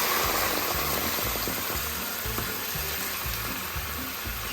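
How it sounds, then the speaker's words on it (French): A pan of bucatini all'amatriciana sauce deglazed with white wine, giving off a loud, steady sizzle and bubbling hiss that persists throughout, with a low rhythmic rumble beneath. "je déglace avec le vin"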